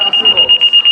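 A quiz-show buzzer at a sports quiz contest sounds as a loud, rapidly pulsing electronic beep, about nine quick tones in under a second.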